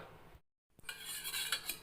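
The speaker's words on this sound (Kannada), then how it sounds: "ಒಗ್ಗರಣೆಯನ್ನು ಒಂದು ದೊಡ್ಡದಾದ ಸ್ಪೂನ್ ಅಥವಾ ಸೌಟು ತಗೊಂಡು ಹೀಗೆ ಪೀಸ್ ಮಾಡಿಟ್ಟಂತಹ ಡೋಕ್ಲದ ಮೇಲೆ ಸ್ವಲ್ಪ ಸ್ವಲ್ಪವಾಗಿ ಸುರಿತಾ ಬರಬೇಕು" A large spoon or ladle pours tempering over cut pieces of dhokla, giving a brief metallic clink against the dish and then a close, bright spattering sizzle, with no talk.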